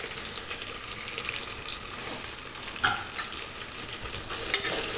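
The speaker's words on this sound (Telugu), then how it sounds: "ఉల్లిపాయ, పచ్చిమిర్చి, అల్లం తురుము ఇవన్నీ వేసుకొని" Onion, green chili and grated ginger fry in hot oil with tempering spices while being stirred, a steady close sizzle broken by scraping strokes of a spoon.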